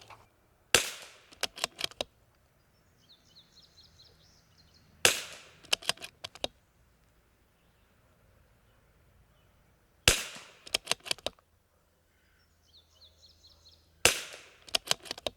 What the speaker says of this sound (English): Let me shoot 5 more.